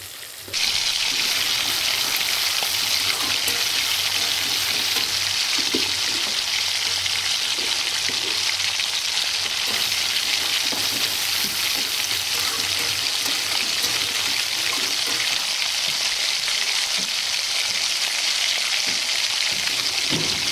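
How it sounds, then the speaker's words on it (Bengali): Masala seasoned with salt, turmeric and sugar frying in a pan for a Bengali fish curry, a loud, continuous close sizzle with faint stirring scrapes throughout, no talking. "এবার মশলাটা কষাবো"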